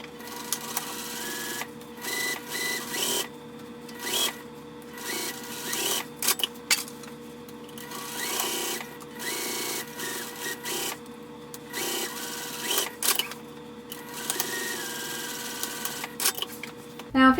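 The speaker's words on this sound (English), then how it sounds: "I'm going to sew those two clipped edges with the seam allowance given in the pattern" A sewing machine stitches the clipped edges of a fabric hobo bag in repeated mechanical bursts of whirring needle rhythm, separated by short pauses, close and fairly steady.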